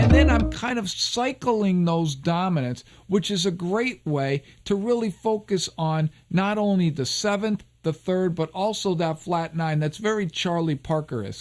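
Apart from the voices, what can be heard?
None of the usual background noises is heard.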